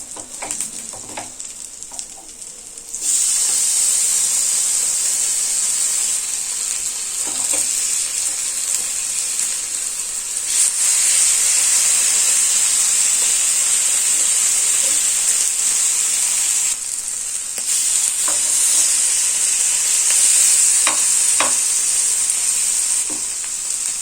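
Fish sizzling steadily on a tawa over low heat, a loud continuous hiss and crackle that starts softer then jumps up after a few seconds, with a brief dip partway through and scattered small pops.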